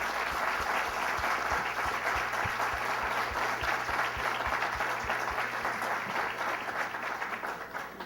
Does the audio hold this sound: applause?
yes